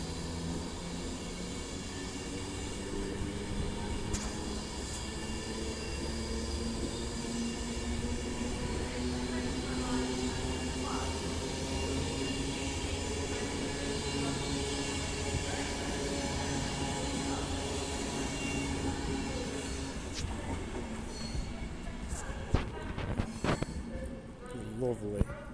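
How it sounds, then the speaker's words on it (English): Avanti West Coast unit 390042 pulls out of Stafford station on the West Coast Main Line with the 15:24 service to London Euston, its electric whine and rolling hum steady and close, rising into louder rattles near the end. "So now departing is 390042 with the 1524 Avanti West Coast service to London Euston via Birmingham New Street."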